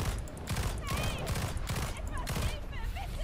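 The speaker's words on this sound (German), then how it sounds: "Jetzt kann ich noch mit der scheiß Pistole hier rumballern" Rapid pistol shots from a video game, Evolve Stage 2, ring out in irregular bursts across the whole stretch, loud and close, with a voice talking over parts of it.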